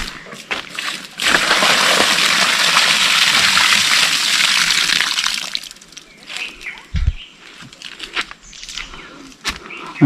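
Water gushes and splashes steadily for several seconds as it is poured onto the ground in the Konkan countryside before the monsoon, then cuts off, leaving quieter scattered knocks and rustles.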